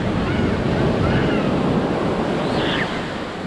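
Ocean waves washing onto a beach, a loud continuous roar of surf mixed with heavy wind buffeting the microphone, easing slightly at the end.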